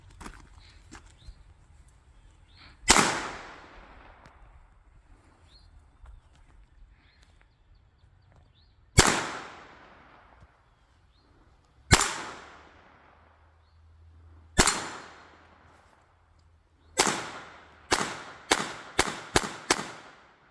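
Ten handgun shots fired at targets on an outdoor range, loud sharp cracks each trailing into a decaying echo; the first few come spaced several seconds apart, then the last five fire in a quick rapid string.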